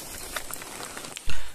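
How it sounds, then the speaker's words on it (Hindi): Steady rain falls outside in a rural farm setting, a soft continuous hiss with scattered drop patters, ending in a brief louder thump near the close. "बाहर चल रही है बारिश"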